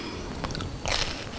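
Biting into a crunchy fried shell topped with cheese, refried beans and salsa gives two or three close, crisp crunches in quick succession over faint background noise.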